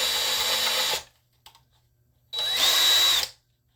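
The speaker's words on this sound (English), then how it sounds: "I am not going to drill this super deep." Power drill boring into a resin table in two short bursts, each about a second long, with a rising whine in the second run and a brief quiet clatter between them.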